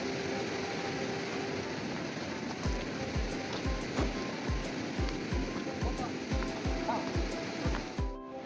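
A river rushes steadily at a riverside barbecue spot, a broad continuous wash of flowing water with a run of regular low thuds beating over it partway through.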